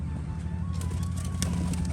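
Pigeons coo close by in a loft, soft low throaty murmuring that runs continuously over a steady background hum, with no talking.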